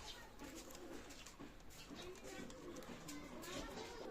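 Soft, low cooing of Pakistani Chinese Teddy pigeons repeating under a faint background murmur, quiet and somewhat distant, at a pigeon loft.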